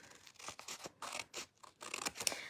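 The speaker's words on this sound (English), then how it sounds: "then I come back with my scissors and trim" Scissors make short, crisp snipping cuts through designer series paper, a handful of close, quiet snips with brief pauses between them while trimming a handmade card.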